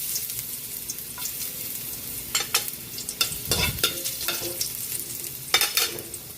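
Ginger sizzles in hot oil as it is sautéed for sweet and sour fish, with soft steady frying under scattered stirring scrapes and clinks of a utensil against the pan.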